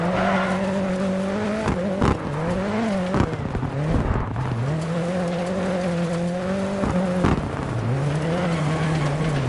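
Hoonigan RSRX rallycross cars race in the video game DiRT 4 World Rallycross Championship. Engines drone and rev steadily, with pitch rising and falling through gear changes, and tires squeal briefly in places. No voices are heard.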